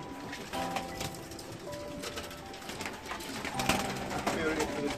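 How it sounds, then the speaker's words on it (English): Racing pigeons coo softly while feeding on fresh vegetables, low repeated murmuring calls under quiet background noise and faint shuffling. "The racing pigeons."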